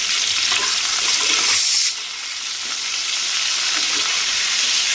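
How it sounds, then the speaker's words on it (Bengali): Potato pieces with a little salt and turmeric fry in hot oil in a kadai, giving a steady close hiss that swells briefly before settling to an even, slightly quieter sizzle. "আলুগুলো লাল লাল করে ভেজে নেব"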